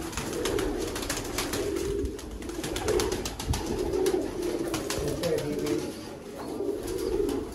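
Baby pigeons kept for sale cooing in soft repeated low calls, several birds close by, with a steady rhythm of coos over light background noise and no talk.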